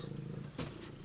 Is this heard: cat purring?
yes